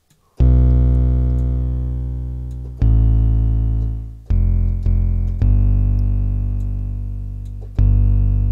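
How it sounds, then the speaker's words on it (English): Deep 808 bass notes from the Flux wavetable synth with heavy distortion, played alone as a sequence of five long sustained tones with sharp attacks and gradual decay, loud and close. "A little bit more distortion."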